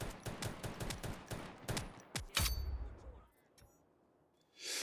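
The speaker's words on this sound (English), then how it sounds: "I would probably shoot them at range like this." Bursts of rapid gunfire from the survival shooter Lost Light, a dense volley of close, loud shots fired at range, then a sharp metallic ring and quieter ambience.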